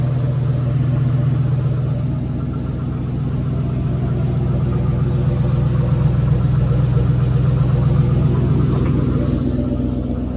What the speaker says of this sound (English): That startup was so sketch.